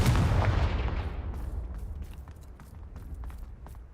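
A Confringo blasting spell from Hogwarts Legacy erupts with a loud, booming burst at the start, then rumbles and fades into a lingering low roar, with faint crackles and thuds scattered through the tail.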